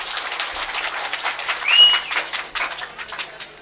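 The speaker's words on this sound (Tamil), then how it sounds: "கீழ கொடுமுளூர் மண்ணின் மைந்தன் தம்பி கனிக்கு ஒரு கைதட்டு கொடுக்கலாம்." Village crowd clapping at an outdoor Tamil stage drama event, steady moderate applause with a brief whistle-like tone rising midway.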